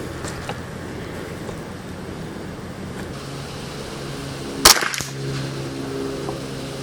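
.22LR rifle firing at a competition target outdoors, a single sharp crack standing out briefly against steady wind and background noise.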